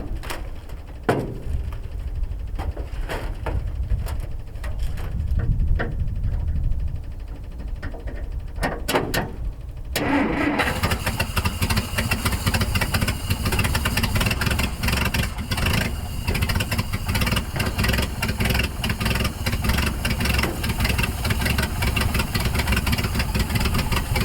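A 1957 Dodge engine cranked by jumping the starter solenoid after long storage, with low mechanical rumbling and clicks before a loud, steady engine roar takes over and continues to the end.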